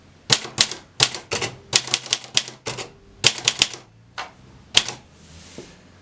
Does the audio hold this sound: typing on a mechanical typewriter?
yes